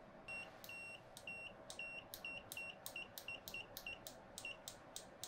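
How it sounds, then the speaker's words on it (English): Continuity buzzer on an EastTester digital multimeter (ET3240 or ET3255) gives a series of short, quiet, evenly spaced beeps, about a dozen in quick succession over a low background hiss. "Let's have a look at the continuity buzzer."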